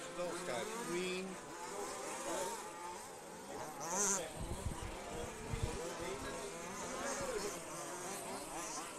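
Radio-controlled off-road race cars running on a track during a European championship finals, their high-pitched whining motors buzzing and shifting pitch continuously, with a busy crowd and talk underneath.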